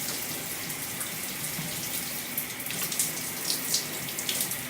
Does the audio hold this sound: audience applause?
no